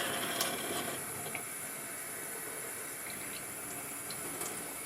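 Water running steadily while hair is washed, a constant splashing hiss from a tap, close and moderately loud, with a few faint clinks and no speech.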